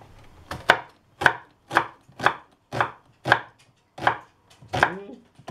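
A knife chops onion on a cutting board for a cabbage pierogi filling, about nine crisp, evenly spaced strokes sounding close and fairly loud, with no talking.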